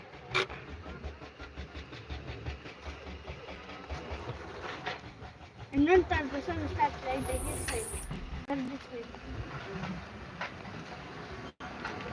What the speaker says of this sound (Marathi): railway railway